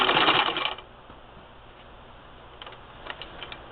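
A 1952 Singer Model 15-91 sewing machine stitching in reverse through quilting layers: a short, loud whirring burst of stitching up front, then near silence with a few faint mechanical ticks.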